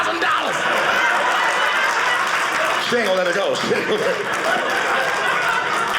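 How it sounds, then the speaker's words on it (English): Comedy-special crowd claps and applauds in a steady, dense wash with scattered chuckles, while a comedian's voice talks over it briefly midway. "Hey, and while we clapping,"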